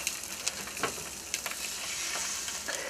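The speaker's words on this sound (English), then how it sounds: "It doesn't have quite the sizzle I was hoping for." Sausage sizzles in hot oil in a pan with a steady hiss, broken by occasional pops and spatters close by.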